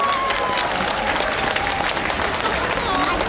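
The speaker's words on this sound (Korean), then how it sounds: "여러분 다시 한번 뜨거운 박수 보내주시면 고맙겠습니다" Audience applause and crowd noise at the Hanseong Baekje Cultural Festival after the main themed stage performance, a steady dense wash of clapping throughout, fairly loud, with a voice faintly audible over it.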